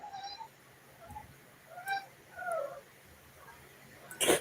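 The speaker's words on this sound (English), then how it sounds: "she does not sound like a normal cat." Cat making odd, high squealing cries in a room, several short whiny squeaks spread over a few seconds, faint and somewhat distant against a quiet background hum, with one sharper noise at the end.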